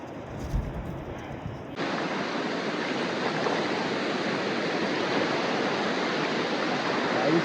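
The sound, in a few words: sea waves on beach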